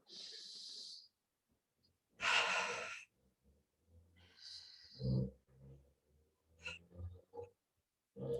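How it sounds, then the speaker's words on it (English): Slow breaths are drawn in through the nose and released through the mouth in a calm, close, quiet sequence with soft airy sighs and gaps of silence between them. "Taking in a few inhales through the nose, slow release with an exhale through the mouth."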